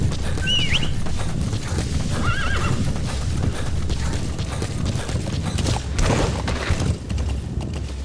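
A horse neighs and hooves clatter in a quick clip-clop over a busy, noisy Metal Gear Solid V: The Phantom Pain game soundscape, fairly close and steady throughout.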